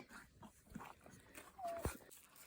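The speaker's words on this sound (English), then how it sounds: "this is Xena, our German Shepherd puppy, who's almost a year old" German Shepherd puppy, almost a year old, on a farm, giving a brief high whimper near the end, a thin rising whine followed by a sharp short yelp over quiet outdoor background.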